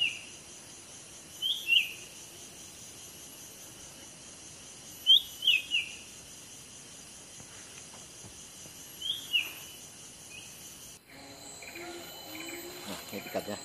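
A songbird sings short, bright chirping phrases in bursts several seconds apart over a steady, faint insect-like background hiss, fairly close; a brief clatter of handling noise follows at the end.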